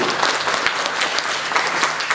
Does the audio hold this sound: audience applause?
yes